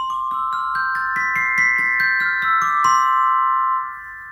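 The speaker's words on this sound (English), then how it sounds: "This is the sound of the glockenspiel," A glockenspiel plays a quick run of bright, bell-like metallic notes in a music-service demonstration, each strike ringing clearly before a final sustained tone fades away; close, alone, no voices.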